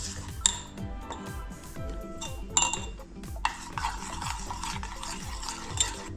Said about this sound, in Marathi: तूप, चीज आणि दूध सगळं एकसारखं करून घ्यायचं वितळून.